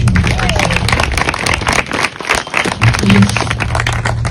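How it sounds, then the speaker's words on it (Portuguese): An audience claps in dense, sustained applause at a gathering celebrating a museum dedication, loud and continuous with a brief dip midway and voices mixed in. "um aplauso"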